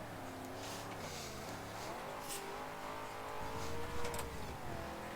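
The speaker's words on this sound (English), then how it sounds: "hear that V8 roar" A V8 car engine roars continuously in a racing video game, with steady harmonic drone rising and falling in pitch as it revs, loud and close throughout with no talking.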